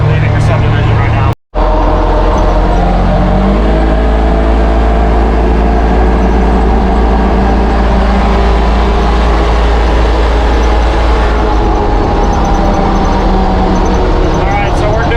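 A 2018 Polaris Ranger 900 XP fitted with a cab heater drives down a road at speed, giving a steady, loud engine and road drone throughout with a brief dropout near the start and someone talking over it.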